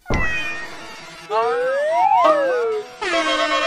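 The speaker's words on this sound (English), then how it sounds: "And now the pedal is in pillow mode." An Endorphin.es Ghost guitar effects pedal in pillow mode gives out wobbling, pitch-sliding tones with crossing sweeps, broken into three separate bursts after a sharp opening attack.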